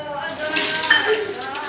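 Dishes and small bowls clink lightly at a family meal while people talk in the background; the clinks are close and scattered.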